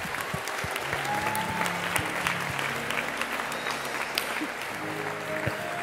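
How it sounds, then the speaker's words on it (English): Sustained audience applause fills a gospel choir concert hall, steady clapping from a crowd with a few sharper claps standing out and faint voices beneath. "Can we just give a clap offering to God for all that we've experienced so far tonight?"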